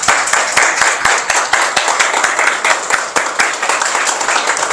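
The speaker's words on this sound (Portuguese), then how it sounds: "Alguém pode aplaudir a Jesus?" A church congregation claps together in a fast, uneven patter of many hands, loud and close, sustained throughout with faint voices mixed in.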